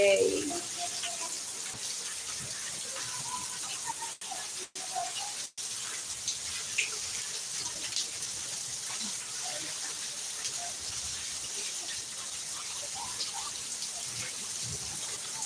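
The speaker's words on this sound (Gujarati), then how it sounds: "ફાઇનલી આપણે વરસાદ આવી ગયો છે" Rain falling during a monsoon downpour, heard from a balcony above a parking area as a steady, even hiss of water with faint patters, continuous and moderately distant.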